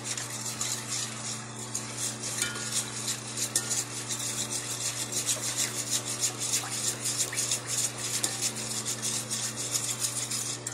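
Sauce for General Tso chicken being whisked or stirred in a bowl, a steady rasping, scraping rhythm that runs continuously at moderate loudness with no talking.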